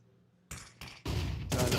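CZ75 pistol fire in Counter-Strike, several quick loud shots in short overlapping bursts with brief gaps between them.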